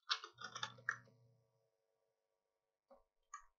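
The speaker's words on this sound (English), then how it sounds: "So let me type in download Packet Tracer." Someone types on a computer keyboard: a quick run of clustered keystrokes, then a pause, then a couple of isolated taps near the end, close and fairly quiet.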